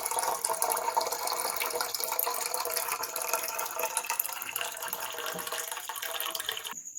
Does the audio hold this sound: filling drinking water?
yes